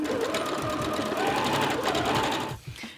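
A domestic sewing machine runs steadily while stitching a cotton t-shirt sleeve, its fast, even motor whir holding close and loud for most of the passage before slowing and stopping near the end.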